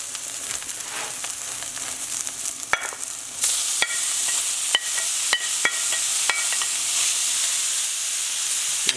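Bok choy sizzling hard in a hot pan and being stirred, a loud steady hiss with scraping strokes and light clinks from the utensil against the pan.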